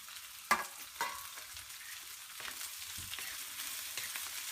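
Okra and potato stir-frying on a fast flame in hot oil, a faint steady sizzle broken by a few sharp scrapes and knocks of stirring, with no voices.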